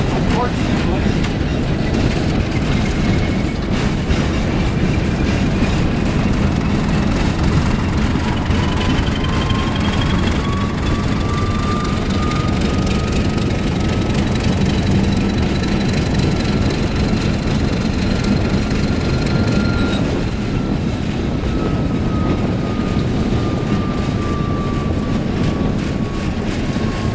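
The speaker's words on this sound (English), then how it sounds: "Those are flat spots on the wheels." Train wheels with flat spots rolling on rails during a ride at a railway museum, a loud continuous rumble and rattle filling the whole stretch, with a faint rising and falling whine riding above it.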